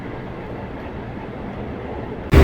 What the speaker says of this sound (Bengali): আমাদের ট্রেনটা এখন ঢুকছে তার গন্তব্য স্টেশন বজবজ